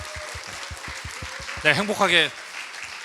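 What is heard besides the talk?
church congregation applauding newlyweds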